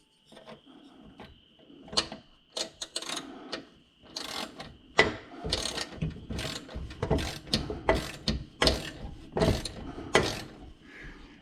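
A ratchet wrench with a 9/16 socket turns a pulley bolt running through a Cub Cadet RTZ mower deck, its pawl clicking in a long series of close, uneven bursts with brief pauses between strokes.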